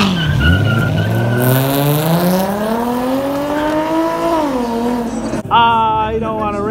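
A Corvette Stingray races at a street meet, its tires skidding in a long, loud, rising squeal that holds for several seconds, then breaks off and resumes sharply, with engine noise underneath.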